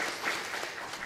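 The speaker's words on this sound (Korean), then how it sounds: "기왕이면 영광의 박수도 올리겠습니다" Church worshippers at a Sunday service clap together in a brief, even burst of applause, a continuous crowd of hands heard fairly close with no speech over it.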